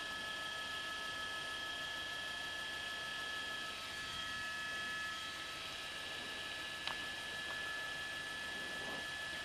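A helicopter hovers overhead tracking a vehicle speeding along a freeway at night, a steady, even whine and rotor drone with faint high tones, distant and unbroken.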